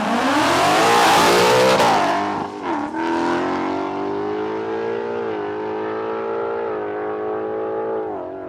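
A drag race car launches down the strip at Palmyra Raceway in a road trip drag challenge, a loud close engine roar rising hard then fading into a long, steady, receding drone as it bogs down slightly.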